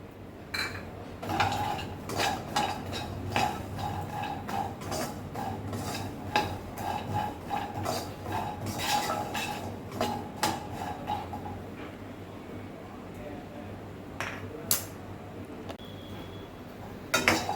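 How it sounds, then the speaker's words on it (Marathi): Walnuts roasting in ghee in a pan, heard as steady clinks and scrapes of a utensil against metal with a soft sizzle underneath, close and fairly quiet, then thinning to occasional taps near the end. "आणि त्या तुपामध्ये हे अक्रोड भाजून घ्यायचे."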